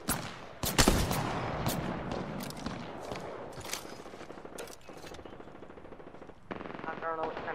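Rapid automatic gunfire from weapons in the battle royale game Apex Legends, loud bursts and clattering volleys packed densely through the stretch, with sharp shots standing out near the start and a fresh burst near the end.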